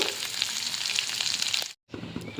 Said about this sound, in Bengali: এবার গাটি কচুরটা ভাজাবো